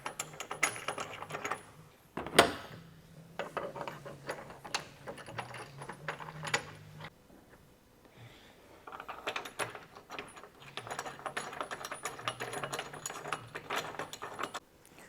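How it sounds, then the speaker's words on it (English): Bolts threaded by hand into a Sherpa bed rack bracket on a Toyota Tacoma bed rail, heard as quiet, quick metallic clicks, jingles and ratchet-like ticking in bursts, with one sharper knock early and a pause in the middle. "take one of our brackets here, line it up, and we can get our bolts started."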